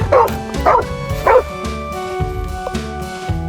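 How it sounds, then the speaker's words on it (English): A small yellow toy dog gives a few electronic barks and yips near the start, followed by a steady mechanical whir with faint jingly tones. "Look, it's a little yellow dog."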